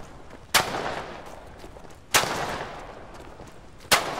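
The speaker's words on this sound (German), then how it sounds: "ich werde geschossen" Three sharp, loud gunshots in the video game Fog of War, spaced roughly one and a half seconds apart, each followed by a long rumbling echo that fades into the background.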